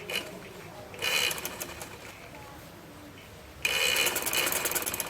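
Domestic sewing machine stitching a fabric edge for a zip on a peplum umbrella frock, running in two short bursts with a quiet pause between, fairly close, with faint bird cooing in the background.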